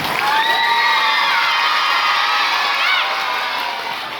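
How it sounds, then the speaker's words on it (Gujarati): A school Grandparents Day audience cheers loudly and continuously, with high children's shouts and whoops blending into a dense crowd roar from start to finish. "હવે તાળી ઓછી ન થવી જોઈએ, હા પ્લીઝ,"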